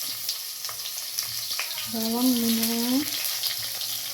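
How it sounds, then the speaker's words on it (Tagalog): Garlic sautés in a hot wok for menudo, with a steady, close sizzle; a voice briefly says a word partway through. "Maglagay na tayo ng maggisa ng ating ricado ay bawang"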